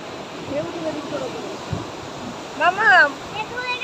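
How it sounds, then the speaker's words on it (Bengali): Sea waves surging ashore at high tide on the beach at Puri, a steady broad rush of surf close by, with voices calling out over it near the end. "এখন সমুদ্রে কিন্তু ভালোই জোয়ার আছে জল এখন প্রচুর এই দেখো জল কীরকম আসছে"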